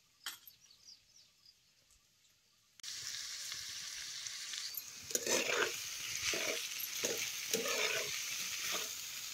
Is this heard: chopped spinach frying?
yes